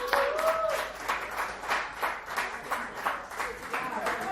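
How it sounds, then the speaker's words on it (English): Dive bar comedy club audience giving a round of applause, steady rhythmic clapping in pulsing waves with a few cheers, fairly close and continuous. "Another round of applause for"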